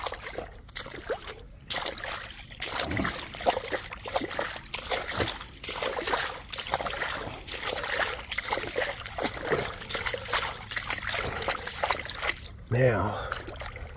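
Water flushes through a PVC clearing pipe with a continuous rushing, splashing trickle that runs the whole time while a person talks over it.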